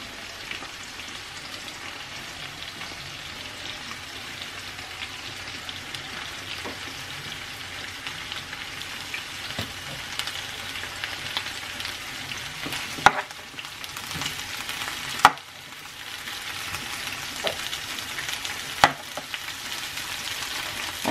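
Potatoes with garlic, lemon pepper and lemon sizzle steadily in a frying pan, a continuous crackling hiss with a few sharp clicks and taps of a utensil against the pan, no voices.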